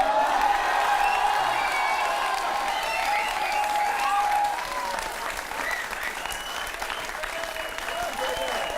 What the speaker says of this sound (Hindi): देखो जूते पे पहली बार ताली आपने